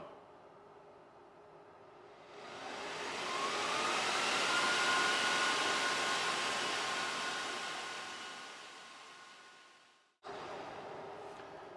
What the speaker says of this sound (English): So despite this fan running, and you can probably hear it, we need the big fan to run.